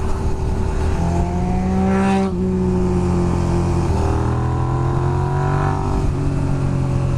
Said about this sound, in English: Have some V-twin thump in your earballs.